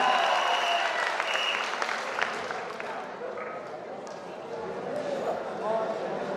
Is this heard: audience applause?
yes